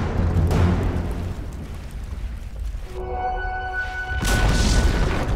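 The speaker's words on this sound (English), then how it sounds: "Dire's middle tower has fallen." A tower collapsing in a Dota 2 match, a heavy rumbling boom that holds steady, with a tonal chime in the middle and a fresh loud burst near the end.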